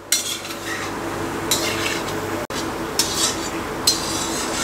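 Gulab jamun turn and roll in hot oil in a pan, giving a steady frying sizzle with soft scraping and occasional clinks of a utensil against the metal.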